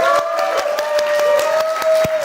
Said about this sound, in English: Another round of applause for Samsung.